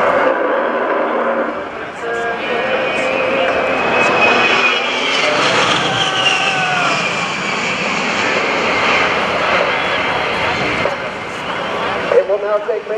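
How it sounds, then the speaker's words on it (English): An A-10 Thunderbolt II jet roars through an air show demonstration pass, loud and sustained with a rising and falling engine whine, while a public-address announcer talks over it. "It will now take Major Thorpe less than 30 seconds to get back into firing position for a second straight attack"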